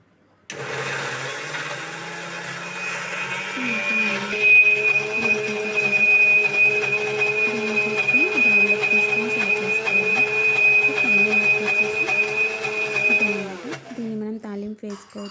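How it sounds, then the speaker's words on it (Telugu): A mixer grinder whirs steadily at close range as it blends ridge gourd chutney in Andhra style. The motor starts, runs loud for about thirteen seconds and then stops abruptly. "కొంచెం కొంచెం క్వాంటిటీ తీసుకొని గ్రైండ్ చేసుకుంటూ అందులో యాడ్ చేసుకుంటూ గ్రైండ్ చేసుకోవాలి"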